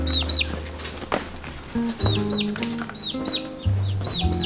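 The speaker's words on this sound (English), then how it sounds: "Oh, chickens." Chickens cluck repeatedly in short, sharp bursts close by, with brief chirping notes between calls and no talking over them.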